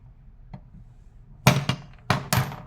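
Small brass hammer tapping a little metal punch: four sharp, close taps in two quick pairs after a faint knock, with no talk.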